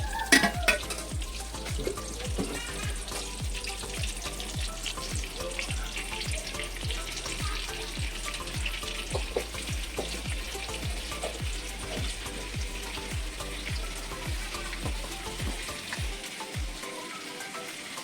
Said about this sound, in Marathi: बटर आणि तेल चांगलं तापले आहे, बटर पण मेल्ट झालं आहे